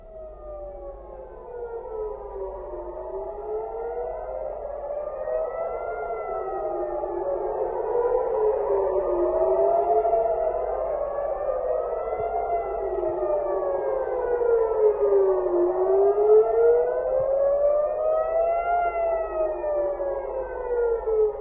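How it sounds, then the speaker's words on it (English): Civil defense air raid sirens in central Israel, triggered by a missile, wail from a distance, several overlapping tones rising and falling in long slow sweeps, steady and unbroken throughout. "The missile triggered sirens across several areas in central Israel."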